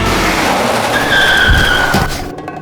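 Car tires skid and squeal in a retro NESmaker video game car chase, a loud sustained screech over a steady engine roar that fades out at the end.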